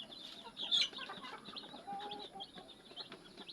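Hens cluck faintly in a farmyard with young chicks nearby, soft scattered clucks and chirps over a quiet outdoor background, no voices.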